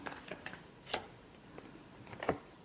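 Tarot cards being shuffled in quick, faint bursts of papery riffling and snapping, a few short clusters close by in a quiet room.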